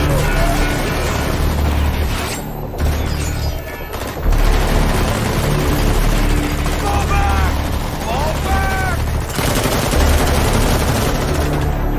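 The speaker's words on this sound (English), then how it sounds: "Why are they shooting at me?" Machine gun fire rattles in bursts in Metal Gear Solid V during a car ride sequence, loud and continuous with booms and mechanical noise, while a voice talks over the shooting.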